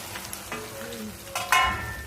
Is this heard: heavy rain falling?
no